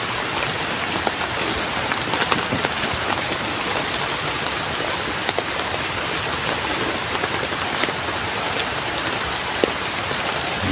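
Heavy rain pours steadily onto surfaces outdoors, a loud, dense, unbroken hiss of drops with scattered sharper splashes and no voices.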